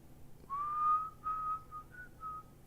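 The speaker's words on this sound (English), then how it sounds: "we've had someone whistle during a song" A person whistles a short melody alone, with several clear sustained notes in separate phrases, fairly close against a quiet background.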